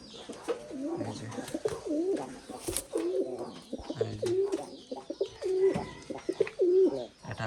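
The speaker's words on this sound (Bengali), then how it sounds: "তো ওই এক জোড়া কবুতর" A pair of pet pigeons cooing close by, repeated soft throaty coos in a steady rhythm, with occasional rustling and faint background noise.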